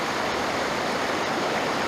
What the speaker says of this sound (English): the small cascade in front of the waterfall